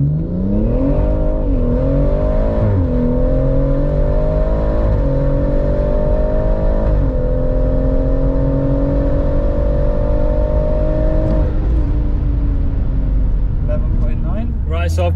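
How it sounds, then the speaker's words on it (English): A Stage 3 BMW M140i launches at full throttle down a quarter-mile strip, its loud engine note climbing repeatedly through several gear changes close by, with a voice speaking over it. "Just gonna floor it."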